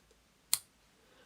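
Crochet yarn tail being snipped with scissors: a single short, sharp snip near the middle, close and fairly quiet, with near silence around it.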